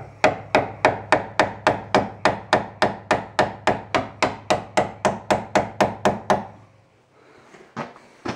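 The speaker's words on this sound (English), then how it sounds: "Just hammer it out with a screwdriver." A screwdriver is hammered against a brake line clip during front strut replacement on a 2001–2006 Nissan Sentra: about twenty sharp, close metallic blows in a quick, even rhythm, then a sudden stop and near quiet with a few faint knocks.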